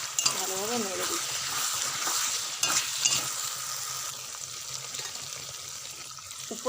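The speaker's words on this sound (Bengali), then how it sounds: "এবার আমি কিছুটা কাসুরি মেথি এর মধ্যে দিয়ে ভালোভাবে নেড়ে দিচ্ছি।" Potatoes with spices and kasuri methi being stirred in a pan, a close sizzle with scraping stirs and a few clatters, while a voice briefly sounds over it early on.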